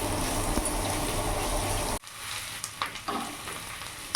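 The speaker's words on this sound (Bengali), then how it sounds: "ভালো করে ভেজে নেব।" Chopped onion and green chilies fry in a pan, first a loud dense sizzle that suddenly drops to a quieter crackle broken by a few stirring scrapes, heard close with no speech.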